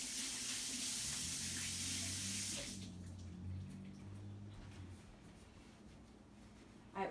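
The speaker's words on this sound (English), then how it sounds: "I'm going to wash my hands." Water from a tap runs steadily while hands are washed in a kitchen, a soft hiss that stops partway through, leaving a quiet room with faint low hum.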